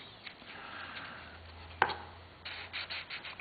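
CA glue being rubbed onto a fender kit part with soft scrubbing strokes, one sharp tap midway, and a few brisk rubbing bursts near the end, close and with no talking.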